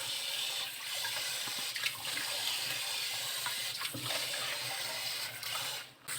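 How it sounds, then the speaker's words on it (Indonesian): Potatoes are washed under a steady running kitchen tap, a continuous close splashing rush of water with small shifts as the pieces are moved. "Nah, air mengalir ya nyucinya."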